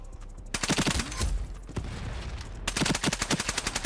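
Honey Badger rifle fire in an Ironsight video game, loud rapid automatic bursts with a pause in the middle, then another fast burst.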